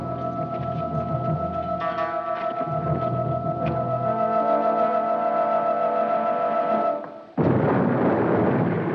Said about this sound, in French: Quelle belle explosion